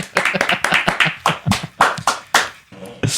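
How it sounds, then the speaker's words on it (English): Hands clap in a burst of applause for a guest at a live podcast taping, the sharp claps uneven and fairly close, dense at first and thinning toward the end. "Round of applause"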